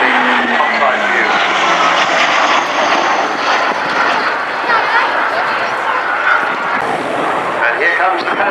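A Hawker Hunter jet fighter flies past at an RAF Cosford airshow, a loud sustained roar with a sweeping pitch as it passes close by, while an announcer talks over it.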